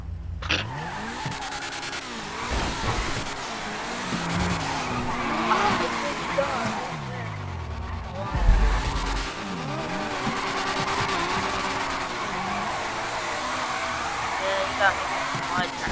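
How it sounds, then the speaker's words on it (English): Car drifting in the FiveM video game, engine roaring steadily with sliding tire skids and squeals across the whole stretch, near and loud, a voice faintly under it. "Start drifting out here."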